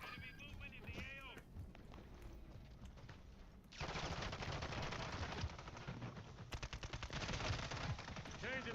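Incoming gunfire in a shooter game, starting with a scattered shot or two under radio-style chatter, then a loud sustained barrage of rapid automatic fire with sharp individual cracks, nearby and intense.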